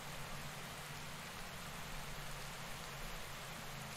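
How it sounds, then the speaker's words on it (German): Rain falls during a cycling race in the video game Pro Cycling Manager 2018 as a dense, steady hiss. A low, constant hum runs underneath, and no voices are heard. "Und dann regnet es hier auch noch."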